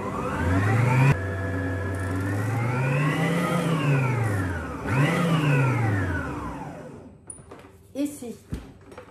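An electric mixer whips egg whites with sugar and cornstarch, its motor whirring loud and close, rising and falling in pitch as the speed changes, then stopping with a few knocks; a voice talks under the noise.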